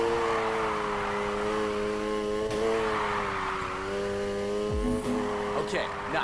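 Engine drone and light tire squeal from a car drifting in Need For Speed Heat, steady and moderately loud with pitch dips, ending in a short sharp thump.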